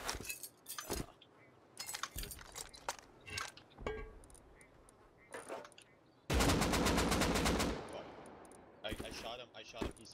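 Gunfire in the Rust video game: scattered single shots and short bursts, then a loud sustained automatic volley followed by more sporadic shots, with players talking in between.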